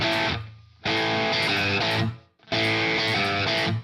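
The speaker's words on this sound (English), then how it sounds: "So this is the sound of the single coil." Electric guitar on a single-coil pickup through a Quad Cortex, playing distorted chords in two loud sustained bursts separated by brief pauses, with no talking.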